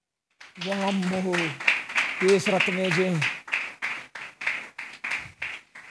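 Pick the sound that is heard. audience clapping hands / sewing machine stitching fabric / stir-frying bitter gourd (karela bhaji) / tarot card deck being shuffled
audience clapping hands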